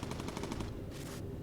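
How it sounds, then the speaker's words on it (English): Rapid bursts of machine-gun fire from a B-17 bomber's gun turrets aimed at enemy aircraft in the game Bomber Crew, a steady rattling stream that pauses briefly and then resumes. "My derpy happy B-17 is just casually shooting at aircraft right now."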